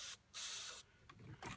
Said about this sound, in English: So literally just giving it a spray in the end of each one